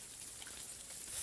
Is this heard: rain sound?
yes